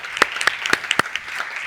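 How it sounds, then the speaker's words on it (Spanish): Brief scattered handclaps from an audience at a talk, a handful of sharp claps spaced unevenly over under two seconds, fairly faint, with no speech over them. "podemos dedicar un aplauso importante"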